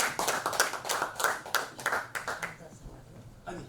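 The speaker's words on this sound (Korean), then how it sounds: "우리 김호 선생님 나오실 때에 힘찬 박수로 환영해 주시면 대단히 감사하겠습니다" An audience at a Korean lecture forum claps in welcome, a dense run of sharp hand claps that lasts a couple of seconds, then thins out and stops, leaving a faint room hush.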